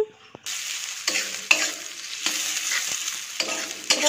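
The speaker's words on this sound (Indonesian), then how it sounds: "mulai dari menumis bawang merah dan bawang putih" Shallots and garlic sautéing in a pan, a steady close sizzle with repeated scraping stirs of a utensil, starting after a brief quiet moment, no talking.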